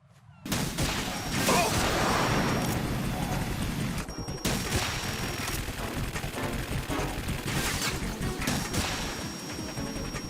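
Gunfire during the Harrier fight in the Metal Gear Solid 2 video game, loud sustained bursts of shooting and explosive crashes that fill the whole stretch, with a brief drop near the middle.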